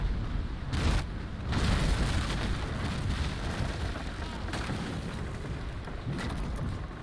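Broadside cannons on sailing warships fire chain shot in the Naval Action game, with heavy booms and dense rolling rumble through a 3rd-rate versus 1st-rate engagement, loud and continuous with sharp onsets and brief dips.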